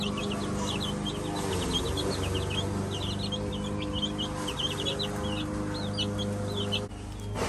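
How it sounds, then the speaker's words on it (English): Baby chicks peep continuously and fairly close, a dense stream of high repeated chirps over a steady low hum of background noise. "These are the baby chicks from the beginning of the video"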